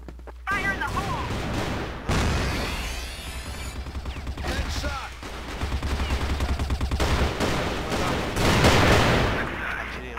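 Repeated bursts of M4A1-S rifle fire in the video game CrossFire crackle close and loud, mixed with other shots and game mechanisms, while a player talks over the action.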